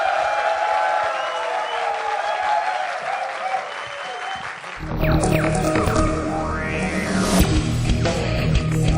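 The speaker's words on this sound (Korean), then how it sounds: "큰 박수 부탁드립니다." An audience at a Korean sports-marketing talk concert bursts into full, steady applause halfway through as the featured guest is welcomed, following a quieter stretch of room sound.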